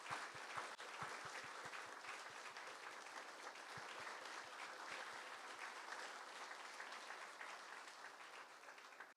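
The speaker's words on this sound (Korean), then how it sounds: "다시 한번 큰 박수 부탁드리겠습니다" Sustained audience applause fills a hall at an honorary doctorate ceremony, dense steady clapping with a few sharper close claps, continuing loudly without pause.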